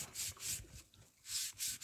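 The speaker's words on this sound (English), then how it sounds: "So it needs a little brushing, huh?" Something soft brushes across a rain-wet surface outdoors, making soft rubbing strokes in four sweeping bursts with brief pauses between, close and fairly quiet.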